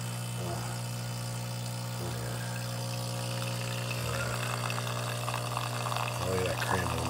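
A De'Longhi Magnifica S espresso machine pumps and pours espresso, a steady loud mechanical hum and buzz with a trickling stream of liquid running throughout.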